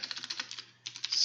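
Rapid typing on a computer keyboard, a run of quick, light key clicks close by, a brief pause, then another flurry of keystrokes.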